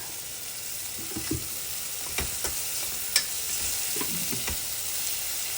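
Onion pieces sprinkled with sugar and salt fry in a pan with a steady, close hiss. A few soft taps and scrapes from stirring break through now and then.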